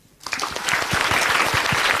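A crowd breaks into applause after a brief quiet moment, the clapping swelling quickly and continuing steadily and fairly loud.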